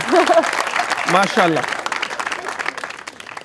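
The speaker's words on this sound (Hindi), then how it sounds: "तालियां" Brief burst of applause and clapping from a crowd, mixed with excited voices and a short spoken exclamation, fading after a few seconds.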